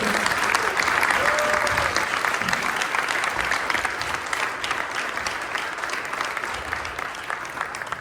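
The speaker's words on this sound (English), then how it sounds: "Round of applause, please." An audience at an aviation awards dinner applauds steadily and continuously, a dense wash of clapping that stays fairly even in loudness, tapering only slightly over several seconds.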